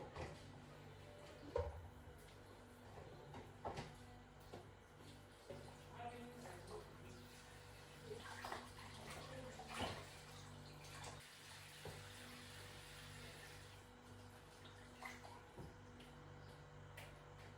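Raw chicken being washed in a pot of water for a Nigerian chicken stew, with quiet intermittent splashing, sloshing and trickling running on and off throughout and a steady low hum underneath.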